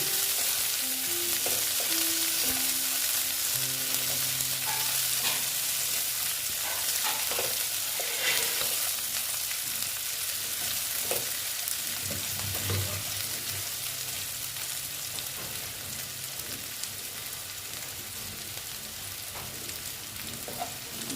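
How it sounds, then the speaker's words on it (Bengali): Onions sizzle steadily in hot oil in a pan for fish curry, with continuous frying crackle and occasional scraping stirs, close and constant throughout. "পেঁয়াজ দিয়ে পেঁয়াজটা একটু ভেজে দিচ্ছি"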